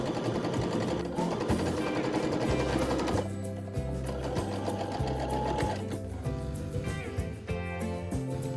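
A sewing machine stitching a dress lining, running close and loud in continuous whirring bursts, with brief pauses and speed changes between runs.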